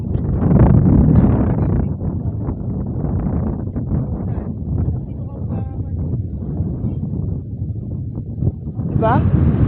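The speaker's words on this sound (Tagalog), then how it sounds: "Ang sarap ng hangin." Wind blowing outdoors at a scenic spot, heard as a steady rumbling buffet against the microphone that runs through the whole stretch, with voices talking over it.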